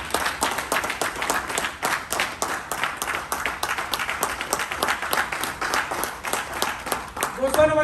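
Loud applause from an audience welcoming achievers on stage at a company award event, steady dense clapping throughout, with a voice starting at the very end.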